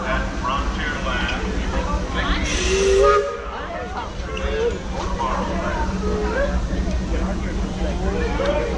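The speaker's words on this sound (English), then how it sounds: "Disneyland Limited now trip around Walt Disney's Magic Kingdom through the Grand Canyon and primeval world." The Disneyland Railroad train runs with a steady rumbling clatter and a brief hiss of steam, while people talk over the continuous noise.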